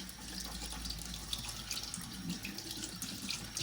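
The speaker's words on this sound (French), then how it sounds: "J'essaie de bloquer l'eau pour que ça aille que dans un sens et qu'il libère tous les résidus" Tap water runs steadily and close into a sink, rinsing a bombilla straw, with a continuous hiss that shifts slightly as the flow is partly blocked.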